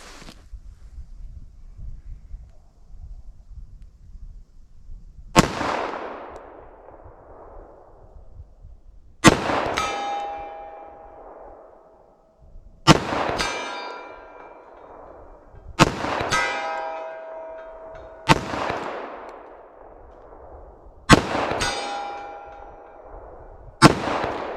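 Seven loud .45 ACP shots from a 5.3-inch Glock pistol, fired at a target 75 yards away and spaced a few seconds apart, each followed by a ringing metallic clang and a fading echo, with quiet wind noise between them.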